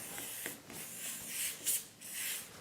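Several short hissing bursts from a spray nozzle spraying moulds, fairly quiet and close, coming in quick uneven pulses.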